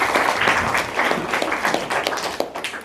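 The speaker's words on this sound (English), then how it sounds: "could we give them a round of applause again" Conference audience applauding panel speakers at an African feminist thought panel, a full round of clapping from many hands that gradually thins and softens toward the end.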